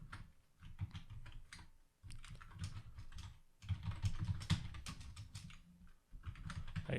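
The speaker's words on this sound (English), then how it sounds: "I'm going to go ahead and just type out our name here" Typing on a computer keyboard to enter a query name, continuous bursts of close, clicky keystrokes with brief pauses between runs, no talking.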